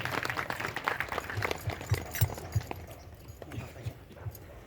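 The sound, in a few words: audience applause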